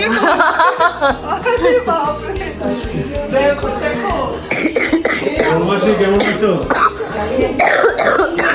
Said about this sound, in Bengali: আমার কাশি দেখো